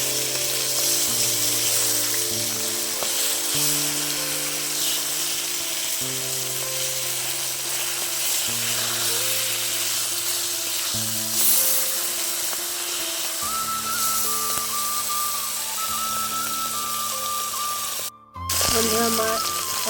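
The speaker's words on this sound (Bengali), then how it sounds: "এবার আমি মাছগুলোকে উল্টে আর এক পিস ভেজে নেব।" Fish pieces frying in a pan give a steady sizzle that runs throughout, beneath continuous background music; the sizzle briefly cuts out near the end.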